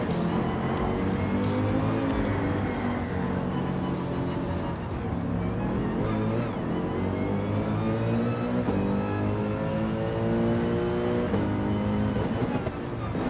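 A Corvette race car in Gran Turismo 7 gives a loud, continuous engine drone whose revs climb and dip through gear changes, with faint tire noise beneath.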